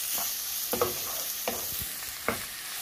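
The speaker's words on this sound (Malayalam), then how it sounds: "അപ്പം നമുക്ക് അതിലോട്ട് ക്യാരറ്റ് ഗ്രേറ്റ് ചെയ്തത് ചേർത്ത് കൊടുക്കാം." Grated carrot sautéing with onion in a pan while making Kerala-style masala dosa, with soft sizzling and a few distinct stirring scrapes at intervals, close and moderately quiet, no voices.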